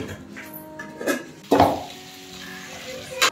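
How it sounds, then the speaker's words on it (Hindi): Cumin seeds and asafoetida sizzle in hot oil in a cooking pan as they are stirred together, with bursts of frying crackle and a couple of louder scrapes of the spoon against the pan. "जीरा बस ही और हींग और इसे मिक्स करेंगे अच्छे से"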